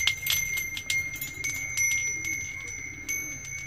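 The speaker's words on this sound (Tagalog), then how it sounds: "Parang hindi na siya masyadong matunog itong ating lumang bell na to." An old bell kept as a lucky charm is shaken, giving a quick flurry of thin metallic clinks with a steady high ring that hangs on underneath, close and moderately loud.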